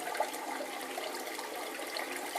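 Water and concentrate slurry pours steadily over the lip of a blue spiral concentrator while reprocessing Idaho dredge concentrates, a continuous soft rushing wash with no breaks, fairly quiet and close.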